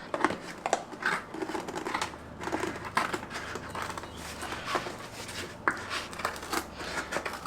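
Quick snipping and rustling of scissors working through packaging, a steady run of short crisp cuts close by with a low hum underneath.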